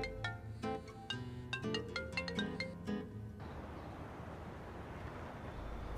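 A phone left ringing unanswered, a melodic electronic ringtone repeating a few bright notes for a few seconds, then cutting off abruptly into low broadband noise.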